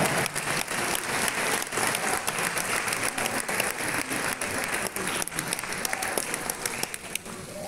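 A concert audience at a Christmas and New Year show applauds loudly and steadily, a dense wash of clapping that continues throughout.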